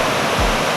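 Roaring waterfall beside the granite steps of the Mist Trail in Yosemite National Park, a loud, steady, dense rush of falling water filling the whole moment, close and with no voices.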